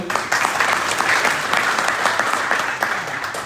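Crowd applause honoring coaches and volunteers at a GHG Academy event in Fresno, a close, lively burst of many clapping hands with irregular sharp claps, steady for several seconds and no speech over it.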